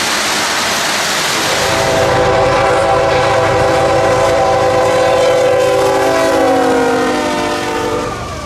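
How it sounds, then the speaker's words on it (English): Intermodal freight train QO32, out of Jacksonville's Duval Ramp and bound for North Bergen, rolls past with long sustained horn blasts over a loud rumble. The rumble swells, then begins to fade at the end. "The rain had lightened up just long enough for train QO32, hot intermodal traffic out of Jacksonville's Duval Ramp bound for North Bergen,"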